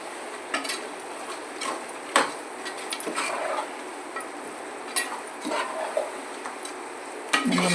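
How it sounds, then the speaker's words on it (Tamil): Chicken coated in masala is stirred in a pan for home-style chicken curry, giving quiet scraping and soft taps of a spoon against the pan over a faint sizzle. "நல்லா மசாலா போட்டு நல்லா பரட்டி விட்டாச்சுங்க"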